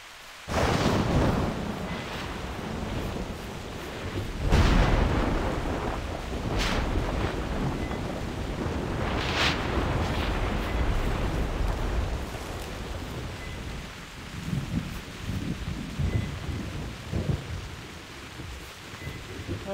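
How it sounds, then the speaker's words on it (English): Heavy rain pours steadily in theHunter: Primal, a dense loud roar with deep rumbling thunder rolling in near the start and fading through the storm, wind gusting underneath. "Now the rain's come and I can't hear a thing."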